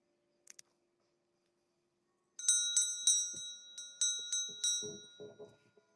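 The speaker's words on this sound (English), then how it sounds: "We're trying out all our different wonderful brass and singing bowls and beautiful, not bells and whistles, no whistles, just the bells." Brass singing bowls and bells struck at a live sale: bright metallic strikes ring out in a quick series, each leaving a sustained shimmering tone, close and clear after a near-silent start, with faint handling noises.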